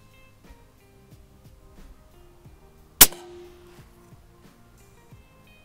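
.308 Winchester rifle fired once at long range: a single sharp, loud crack with a brief ringing decay stands out against a quiet, faintly rhythmic background.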